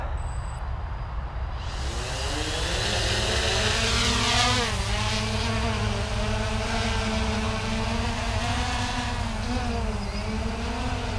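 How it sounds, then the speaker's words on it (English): A Hubsan X4 Pro camera quadcopter drone takes off and flies, a steady, loud, close buzzing whine of small motors whose pitch rises during the climb and then shifts up and down as it moves. "starting off with the Hubsan camera, let's go for a takeoff"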